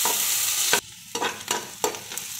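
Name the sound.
fenugreek seeds and chopped onion frying in hot oil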